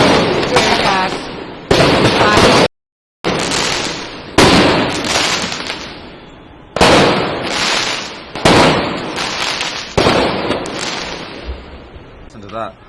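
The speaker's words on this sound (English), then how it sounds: "Just successfully fired a firework, adding volleyed with a lot of tear gas." Fireworks and tear gas canisters fired at protesters in a Venezuelan street, a series of loud sharp bangs and bursts in repeated volleys with echoing decay, one brief gap of silence, voices audible between blasts.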